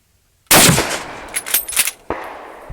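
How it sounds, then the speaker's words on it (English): French MAS-36 rifle in 7.5x54mm firing at a target outdoors: a single sharp, loud concussive shot with a short echoing tail, followed by a few fainter clattering sounds. "This is rather a short rifle, so it does produce somewhat of an impressive concussive force and sound."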